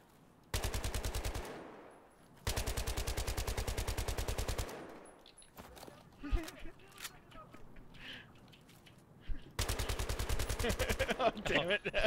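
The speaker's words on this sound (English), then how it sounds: "sniper machine gun." Sniper machine gun fire in a video game, loud rapid bursts repeated several times with scattered clicks and game noises between them, while players talk quietly.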